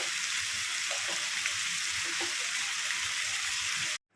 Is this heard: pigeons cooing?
no